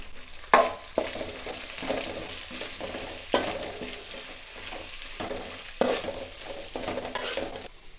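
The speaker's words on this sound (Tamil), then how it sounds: "இந்த வெங்காயம் வந்து பார்த்திங்கன்னா கண்ணாடி மாதிரி வதங்கினா போதும்." Sliced onions sauté in hot oil for a potato masala to go with poori, giving a steady close sizzle broken by sharp scrapes and clanks of stirring in the pan.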